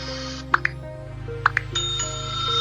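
Two quick double dings of a bright bell, evenly spaced over a soft electronic hum.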